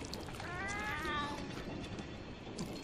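Cartoonish cats meow in the Monster Hunter video game kitchen, one clear rising-falling meow near the start over a continuous busy backdrop of game sound and faint chatter.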